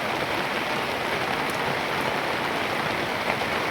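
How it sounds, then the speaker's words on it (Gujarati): Heavy monsoon rain pouring down in rural Gujarat after days of drizzle, a dense, even, continuous hiss of drops drumming on surfaces close by. "રોજ ઝરમર આવે છે, પણ આજ વધી ગયું. અત્યારે ફૂલ સ્પીડમાં"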